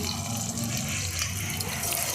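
Carrot-juice puli pitha, soft sweet dumplings, frying one at a time in very hot oil over a high flame, giving a steady, close bubbling sizzle with no talk.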